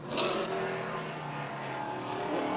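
Historic Trans Am race cars, including a Firebird, roar with loud, sustained V8 engine noise at the track, a dense continuous blare with slight pitch shifts and no talk over it.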